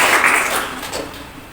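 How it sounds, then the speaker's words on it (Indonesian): Clapping from a group of students in a classroom, a brief dense patter of hands that fades over about a second and a half. "Tepuk tangan"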